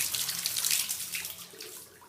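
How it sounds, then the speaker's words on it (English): Water runs steadily from a bathroom sink tap, a close, continuous hissing splash that wavers slightly in strength, with no voices over it. "And then left hand tap. Also running water fine."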